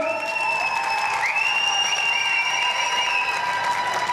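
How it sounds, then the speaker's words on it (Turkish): Guests applaud steadily at Rahime and Selcuk's 2010 wedding in Limburg, Germany, a dense, continuous roar of clapping over sustained high whistling or reedy musical tones. "Alkış susmuyor."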